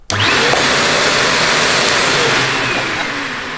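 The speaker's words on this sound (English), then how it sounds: "So it's a good amount of suction power there." A VonHaus 800W ash vacuum cleaner for log burner cleanup switches on abruptly and then runs with a loud, steady broadband roar close by for several seconds.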